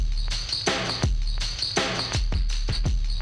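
A loud drum-and-bass drum loop with thumping kicks and sharp snare hits, its tone gritty and slightly distorted by preamp saturation, playing in a steady rhythm with no voices.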